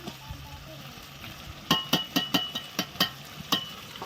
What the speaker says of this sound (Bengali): আর এই মশলাটা খুব ভালো করে কষিয়ে নেবেন